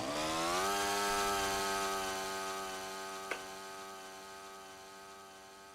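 A Slim 526 model airplane in the RealFlight Evolution flight simulator, its engine a steady buzzing drone that dips in pitch and fades slightly as it flies, with a brief click partway through.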